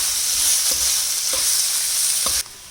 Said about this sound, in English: Now we will add 1 teaspoon of turmeric powder and mix it nicely.